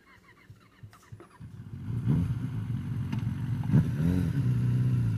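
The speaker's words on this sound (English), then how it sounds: "We get a motorcycle sound effect." A motorcycle engine sound effect from a small speaker wired to a homemade touch circuit board with tin-foil pads: a few faint clicks, then a steady electronic revving drone with rising and falling swells.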